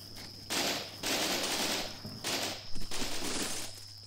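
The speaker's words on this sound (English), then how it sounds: "We've got some MG fire on the enemy position, finally." Machine gun fire pours onto an enemy position in the war game Combat Mission Black Sea, with several sustained rattling bursts separated by brief pauses, moderately distant and without talk.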